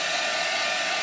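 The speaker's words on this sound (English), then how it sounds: "when you use a heat tool or a blow dryer to kind of dry up" A heat tool or blow dryer blows steadily while drying chalk paint, a loud, close, unbroken whoosh with no pauses.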